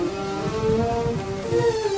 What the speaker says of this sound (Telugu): అదే వర్షం, అదే చలి.